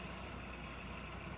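Ford Mondeo MK1 engine idling right after start-up, a steady, even mid-to-low rumble with a constant vibrating hum that stays level and close throughout, with no voices.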